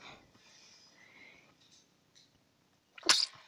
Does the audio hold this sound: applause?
no